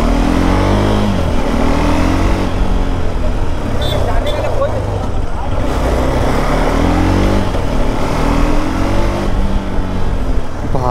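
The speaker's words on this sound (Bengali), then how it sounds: "এতদিন পর বাইকটাকে একটু চালিয়ে দেখি" A rebuilt KTM Adventure 390 motorcycle engine with about 113,000 km on it runs close by, a steady low rumble with slight rises in revs, while voices talk over it throughout.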